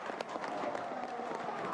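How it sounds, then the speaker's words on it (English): Crowd cheering at the Brazilian Grand Prix at Interlagos, a distant, steady roar with scattered clapping after a race win. "And the crowd are cheering like crazy underneath us."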